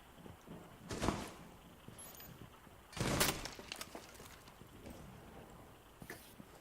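Gunfire in the video game Rainbow Six Siege: two loud bursts of shots near one and three seconds, with a fainter burst just after six seconds, over quiet in-game background.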